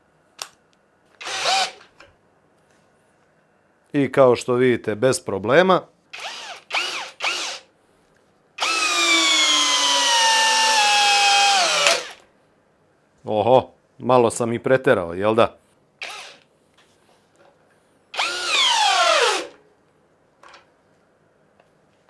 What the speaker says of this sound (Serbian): Prelazim na režim bušenja.